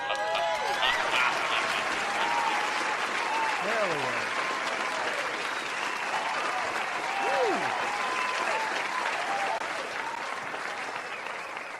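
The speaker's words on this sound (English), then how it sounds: "Let's give this guy a round of applause." A crowd applauds steadily for a silver buyer, with whoops and cheers rising over the clapping and someone shouting briefly near the start.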